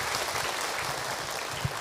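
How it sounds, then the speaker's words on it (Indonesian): Audience applause at an Indonesian Islamic lecture, a steady dense wash of clapping from a crowd that holds at an even level throughout, with no speech over it. "Tepuk tangan buat ibu yang bertanya."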